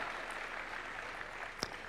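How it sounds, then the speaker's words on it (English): Audience applause in a conference hall at KICC Nairobi during a national plan launch, an even, moderately distant patter of many clapping hands with one sharper clap near the end. "Let's give him a round of applause as he makes his way up."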